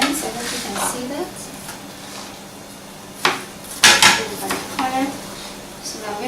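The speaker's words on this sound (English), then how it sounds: "So, chopping my onions, I hope you can see that." A knife chops onions while Chinese fried rice is prepared, giving several sharp clacks on a board amid kitchen clatter, with a person talking throughout.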